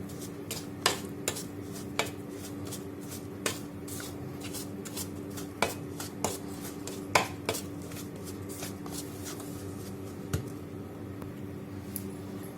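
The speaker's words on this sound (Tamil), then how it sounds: "அதனால் இந்த கரண்டி வச்சு கிண்டிடலாம்." A ladle stirs hot milk into rava in a pan, giving a series of sharp scraping clicks and taps against the metal at an irregular pace over a quiet background.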